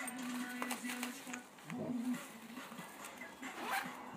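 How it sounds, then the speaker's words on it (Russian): Several quick zipper pulls on a small pocket of a black Porsche Sports Rucksack, short rasping strokes close up, with a voice talking softly underneath. "И змеечка еще."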